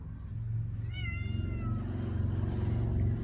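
A cat meows once near a box, a clear rising-falling call over a steady low background hum, then the room goes quiet apart from that hum.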